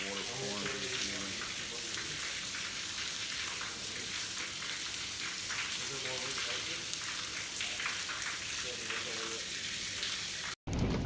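Water pouring through the ceiling on the third floor of a hotel during Hurricane Michael, a continuous rushing, splashing torrent with faint voices underneath, ending in a brief cut.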